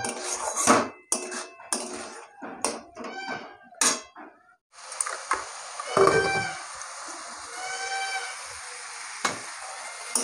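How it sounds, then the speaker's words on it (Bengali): Fried potatoes stirred with spices in a pan, with clattering metal spoon strikes and scrapes against the pan in bursts, followed by a steady sizzle, all close and without talk. "এখন এই মশলার সঙ্গে আলুগুলো ভালো করে কষিয়ে নেব"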